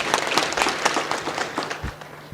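Audience applause at a public service leadership fellowship event, a steady burst of clapping from a seated crowd filling the room for a couple of seconds.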